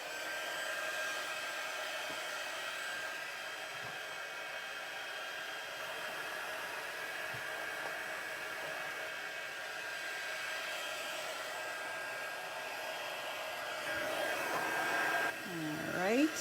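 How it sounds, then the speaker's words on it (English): A heat gun blowing steadily to melt embossing powder, a constant close whooshing roar for the whole stretch that swells slightly toward the end, with faint talk underneath. "heat gun, now this is going to be a little noisy, I do apologize"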